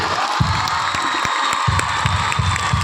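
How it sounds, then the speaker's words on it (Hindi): A crowd of schoolgirls at a girls' inter college function in Muzaffarnagar bursts into loud applause and cheering, dense clapping with shouts and whoops layered over it, close and energetic throughout. "अपनी पूरी टीम के लिए और अपने लिए जोरदार तालियां बजाएं"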